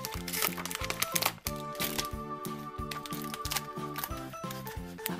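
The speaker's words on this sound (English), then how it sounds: "Probably not. Scissors." Scissors cutting gift packaging off a children's magazine: close crinkling plastic and paper rustles with small snips and cracks, busy and irregular, with some faint handling noise.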